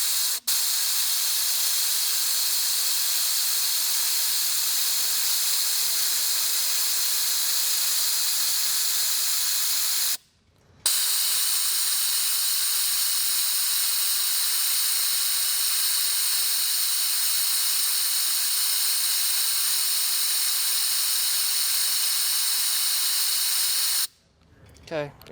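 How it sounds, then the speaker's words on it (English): Air compressor feeding compressed air through a vacuum filler tool into an Audi Q5 cooling system, a loud continuous close hiss that cuts out briefly and then resumes until near the end. "We're gonna plug the air in because we're using an air compressor."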